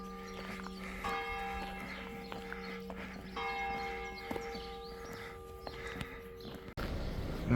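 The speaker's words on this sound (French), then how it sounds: "Quand Bob passe, les cloches sonnent." Bells of a village church in the Gers, France, toll in repeated, sustained ringing strokes at moderate distance, layered over outdoor ambience and walking sounds, then fade near the end.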